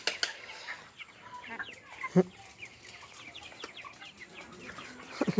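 Chickens on a poultry farm in the evening give soft scattered clucks and short calls over a faint, quiet barn background, with a couple of sharper squawks near the end.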